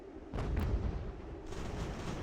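Cannon and musket fire from a Revolutionary War battle in Ultimate General American Revolution: a deep booming volley bursts in, then rolling, crackling gunfire continues as a dense, distant-sounding rumble.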